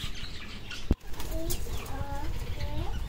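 Budgies in a backyard bird aviary, with a sharp burst of flapping wings followed by soft chirps and short calls over steady background noise, the birds sounding fairly close.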